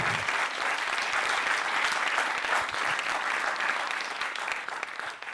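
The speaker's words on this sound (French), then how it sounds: "Donc vous pouvez vous applaudir pour tout ce que vous avez vécu." A crowd claps steadily and loudly throughout, a dense wash of applause that barely fades toward the end.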